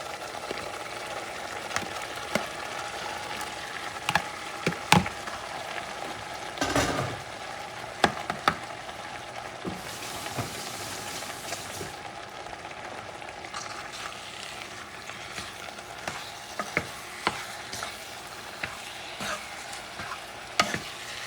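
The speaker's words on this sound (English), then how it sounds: "Now it's time to add the ground meat." Ground beef for a chili sizzles steadily in a hot pan while a spoon stirs and scrapes through it, with sharp clacks and scrapes scattered over a constant frying hiss and no talk.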